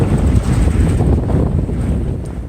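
Strong sea wind roars steadily across the microphone aboard a sailboat crossing from Puerto Morelos to Cozumel, a loud continuous rushing with faint water noise beneath and no talking.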